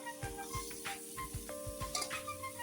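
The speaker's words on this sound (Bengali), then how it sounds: "তো আমি এখন মাশরুমটা একটু হালকা ভেজে নিই বাটারের সাথে" Small chopped mushrooms frying in butter in a pan for a cheese toast, a faint, steady sizzle broken by repeated soft stirring scrapes, with no speech.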